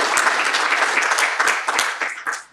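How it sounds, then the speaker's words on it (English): An audience at a talk on doing math with Python breaks into dense, close applause that holds steady and then trails off, with no one speaking. "Okay, round of applause, and then I'll grab some questions."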